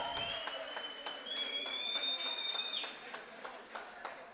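Applause for the newlyweds at a Turkmen wedding in Istanbul, with dense clapping from a crowd and sharp hand-claps running through the whole stretch, steady and loud, under a bright sustained tone.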